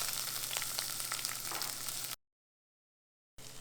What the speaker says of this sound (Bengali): সবগুলোকে একটুখানি ভেজে নেব।